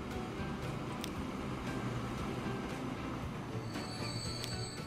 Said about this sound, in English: this train.